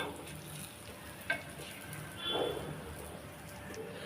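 Sweet paniyaram made with jaggery cooks in a pan over a medium flame, giving a soft, low sizzle with a faint clink partway through.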